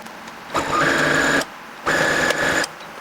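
A sewing machine stitches a quarter-inch seam on a T-shirt blanket in two close bursts of rapid, even whirring, each about a second long, separated by a short pause, with no talk.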